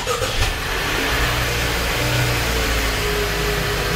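A car engine hums and revs at a moderate pitch as the car moves off to be parked, a steady loud drone close by with slight acceleration swells and no talk.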